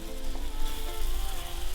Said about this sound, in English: come a little closer and listen to the sizzle